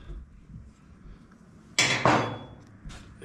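A handmade wooden axe handle with wedges is clamped in a workshop vise, giving two quick, loud metallic clunks and a ringing clatter as the jaws close, with quiet room noise before and after.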